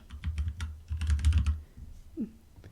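Quick bursts of keystrokes on a computer keyboard as a word is typed into a software form, close and clear, fading into a short quiet stretch with a faint click near the end.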